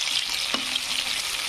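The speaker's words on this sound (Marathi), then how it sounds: "बटाटे आणि शिमला मिरची पण छान असे तळून घ्यायचं आहे आपल्याला।" Potatoes and capsicum fry in hot oil for masala pulao, giving a steady close sizzle with a brief stir partway through and no talk.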